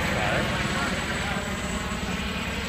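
A news helicopter flies overhead at night near a police perimeter in Tempe, giving a continuous, loud rotor and engine drone that stays steady throughout.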